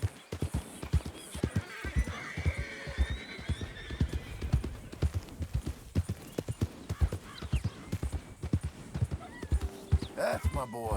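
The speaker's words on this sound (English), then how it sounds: "Now we have a horse named Dusty" A horse in the Red Dead Redemption 2 video game clops along with steady, rhythmic hoofbeats, and whinnies several times throughout.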